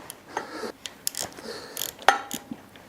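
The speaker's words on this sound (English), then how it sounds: "The easiest way is with a socket and an extension like I'm doing here" Ratcheting socket wrench with an extension working on 13mm flange nuts on a BSA Gold Star 650 motorcycle exhaust: close, quiet clicking ratchet strokes in short irregular bursts with light metallic taps.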